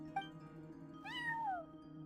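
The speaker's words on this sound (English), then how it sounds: "cat watching over the front desk" A cat in the video game Genshin Impact gives a single clear meow, rising then falling, with a faint chirp just before it, over a quiet steady background hum.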